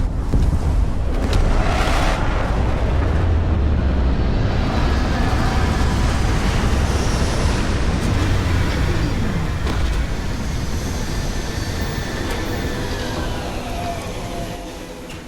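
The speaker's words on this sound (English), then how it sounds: "Beginning landing cycle." Spaceship landing sequence in the Starfield video game: a loud, steady low engine rumble and roar held throughout, slowly easing toward the end, with no voices.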